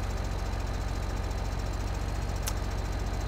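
A Case tractor engine idling in Farming Simulator 2013: a steady, low, even mechanical chug with a constant hum and no change in pitch. A brief high tick sounds partway through.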